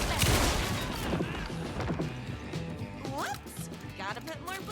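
Gunfire from the video game Alan Wake 2, rapid bursts of shots mixed into a dense game soundscape with music, while someone talks over it.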